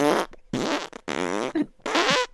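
A cartoonish fart sound effect from a video game, set in a bathtub bubble bath, comes in several loud, close bursts of varied pitch separated by short gaps, with no talk over it.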